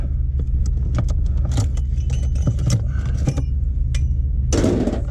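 Ratchet straps are cranked tight on an HGV trailer: bursts of close metallic clicking and clattering rattle over a low, constant engine rumble in the background.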